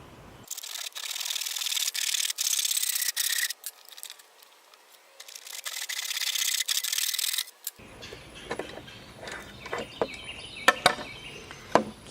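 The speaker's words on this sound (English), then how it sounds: "I'm going to cut halfway through this and then flip it around" Hand saw cutting halfway through a pipe for a worm tower, with two bursts of fast, harsh rasping strokes, near and loud, followed by clattering handling noises.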